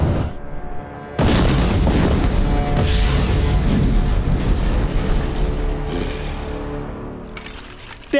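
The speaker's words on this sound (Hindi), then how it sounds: "इसके आगे तोपों की मार है।" Cannon artillery fire booms in an animated historical battle film, a loud sudden blast followed by a long rolling rumble that slowly fades, with further metallic crackle near the end and no speech.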